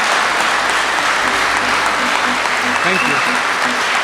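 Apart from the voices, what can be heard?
audience applause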